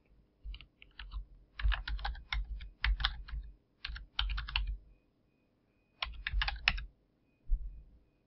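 An email address is typed on a computer keyboard in bursts of fast, close key clicks separated by short pauses, with no talking.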